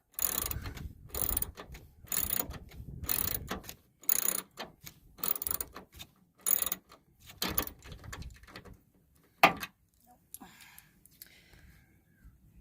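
Rapid ratcheting clicks from a socket wrench driving screws into a first-generation Astro Van mirror, with repeated short bursts of clicking in a steady rhythm, close up, that taper off toward the end.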